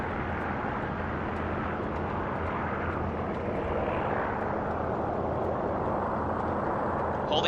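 Aircraft engine running steadily as the plane taxis along a runway, a continuous broad roar with a droning low hum that holds at an even, fairly close level throughout.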